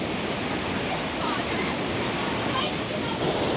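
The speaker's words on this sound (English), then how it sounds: "So they do also have these very impressive looking rapids." Rapids ride at Tusenfryd theme park in Norway, its churning water giving a loud, continuous broadband rush that holds steady throughout with no break.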